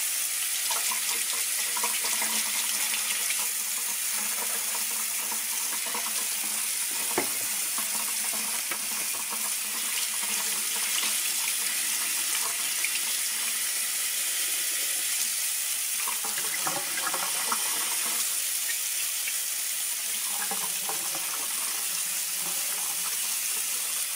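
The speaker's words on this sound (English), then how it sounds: "I'm just gonna wash right under the water with my hands with the soap" Tap water runs steadily into a sink while a reborn doll head is washed by hand with soap, a continuous close splashing hiss with shifting gurgles as hands move under the stream.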